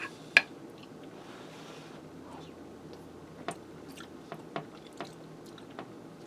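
Someone chewing a bite of potato from a beef stew, with a few soft, sparse crunchy bites and mouth sounds, close and faint against a quiet background.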